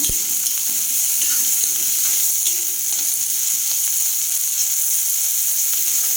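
Sliced onions frying in oil that has turmeric in it, giving a steady, dense sizzle and crackle close by. The sound holds at an even level throughout with no talking.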